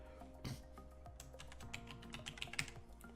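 Someone types a folder name on a computer keyboard: quick, irregular clicks of close keys in short bursts, with no voices.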